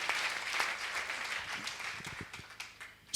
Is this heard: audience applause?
yes